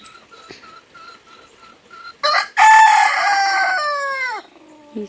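A farmyard rooster gives one loud, close crow on a cold, rainy day, preceded by soft, intermittent clucking, then a long sustained cock-a-doodle-doo that fades at the end.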